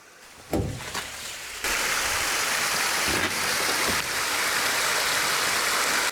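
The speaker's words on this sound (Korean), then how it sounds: "저기서 물이 흐르거든." Water rushes steadily inside an abandoned power plant, a loud continuous hiss of flow that starts after a few knocks and thuds and carries on unbroken.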